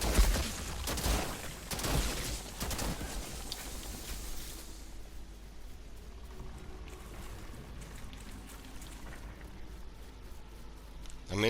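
Rapid gunfire in the shooter game Outriders crackles in dense bursts for the first few seconds, then gives way to a quieter rumbling, hissing background.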